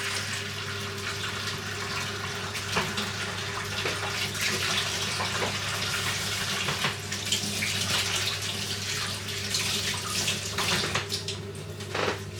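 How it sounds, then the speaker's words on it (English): A kitchen tap runs steadily while gloves are rinsed under it during meatball and tomato sauce cooking, giving a continuous close hiss and splash of water into the sink. "Just washing off my gloves"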